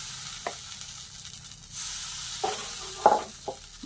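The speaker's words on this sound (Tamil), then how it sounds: "நம்ம எடுத்து ஆப்பச்சட்டியில் ஊற்றி நம்ம நல்லா சுற்றி விட்டால் சரியாக ஆப்பம் வரணும்" Appam batter sizzles faintly in a hot appam pan, a soft steady hiss broken by a few light clinks and scrapes as the pan is swirled, with no one speaking.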